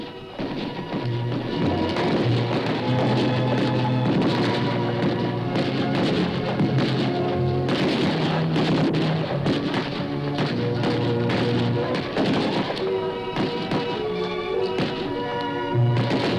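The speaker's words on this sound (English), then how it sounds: "That evening, there was a firework display in her honor." Continuous booming and crackling fireworks, loud and dense, with overlapping thuds and rumbles throughout, heard close up at a 1961 display in Pakistan.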